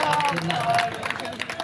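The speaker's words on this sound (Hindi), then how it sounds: "एक बार दोनों हाथ ऊपर उठाकर ढंग से तालियां बजा के बताइए" An audience at a kavi sammelan poetry event in Mangrol claps together in a loud, continuous wash of many hands, with a voice carrying over the applause.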